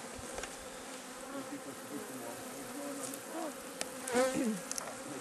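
Wasps buzz steadily around an open beehive, a dense continuous drone with individual insects swooping close and louder now and then, without talk.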